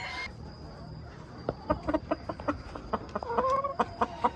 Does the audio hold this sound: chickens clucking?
yes